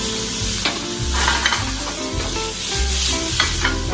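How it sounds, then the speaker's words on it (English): Tomato and onion sauté together in a pan for a Japanese garlic shrimp dish, a loud, steady sizzle with stirring scrapes throughout and no talking. "Just saute."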